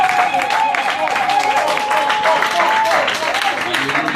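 A church congregation at a Sunday service applauds and acclaims the Lord, with dense, continuous clapping and crowd voices that fill the room loudly for the whole stretch.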